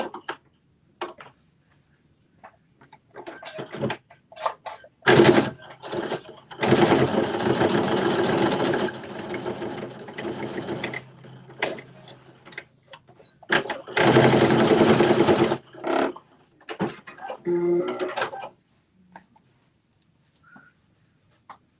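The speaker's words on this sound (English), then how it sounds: "You're going to edge stitch the top closed." Sewing machine edge stitching the top of a garment closed, running in several bursts of rapid mechanical whirring with short pauses and clicks between them, close and fairly loud.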